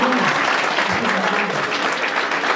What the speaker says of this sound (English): I think we need an applause there.